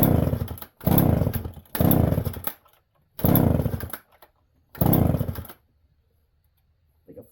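An old Homelite-style 1010 chainsaw being started: five loud bursts of engine revving, each about half a second to a second long with short silent gaps, sputtering out after the last pull.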